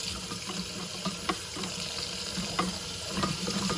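Cold water runs steadily from a kitchen tap over saltfish being washed, a constant close splashing hiss.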